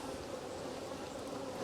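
Honey bees buzz steadily at an opened hive, a soft, continuous drone with no break and no voices.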